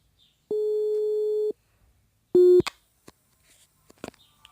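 Phone call tones sound alone and clearly: a long electronic beep of about a second, a pause, then a shorter beep, followed by faint clicks and handling noises, with no answer heard.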